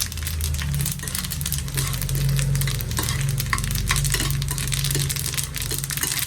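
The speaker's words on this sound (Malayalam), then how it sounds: "എള്ളു കൂടെ എടുത്ത് വെച്ചത് ഇട്ട് കൊടുക്കാം അതും കൂടെ ഒന്ന് വറുത്തിടാം" Sesame seeds roasting in a pan for neyyappam batter crackle and tick steadily, with scraping stir strokes and a low hum beneath, close by.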